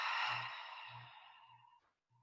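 A deep, forceful exhale empties the lungs during a standing exercise class, starting as a loud breathy rush and fading over about two seconds, followed by a faint short breath.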